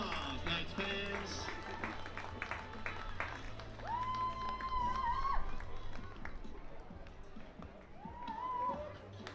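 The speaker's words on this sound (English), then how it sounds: "Give them a big round of applause, Knights fans." Baseball crowd at a Corvallis Knights game applauding and cheering in a stadium, steady clapping and crowd noise throughout with whistles rising over it.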